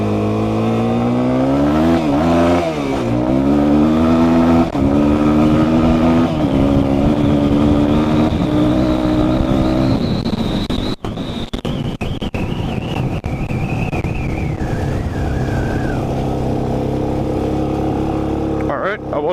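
A Suzuki DRZ400E dual-sport motorcycle accelerates hard off-road on a top-speed run. The loud engine climbs in pitch through the gears, keeps roaring at high revs and holds steady near the end, with wind noise around it.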